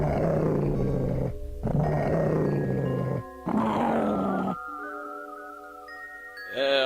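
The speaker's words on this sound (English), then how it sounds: "there's a guard dog." A guard dog at the Rochefort estate in a video game growls in low, rough bursts, then a thinner, steadier synthetic tone lingers before a brief rise at the end.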